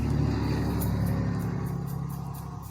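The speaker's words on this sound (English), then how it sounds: "if you all can hear the cars going by outside" Cars drive by outside an open bathroom window, a steady, loud engine rumble and road roar that fades slightly as a vehicle passes.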